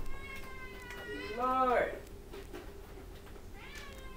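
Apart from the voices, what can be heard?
cat meowing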